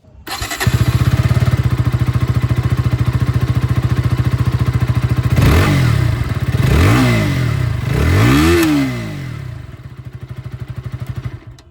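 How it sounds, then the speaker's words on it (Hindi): A KTM RC 160 motorcycle idles steadily through its exhaust, then gets several sharp throttle blips that rise and fall before settling back to a lumpy idle, loud and close with no talking. "मैं आप लोगों को यहाँ पर जो एग्जॉस्ट साउंड है सबसे पहले यहाँ पर आप लोगों को ये सुना देता हूँ"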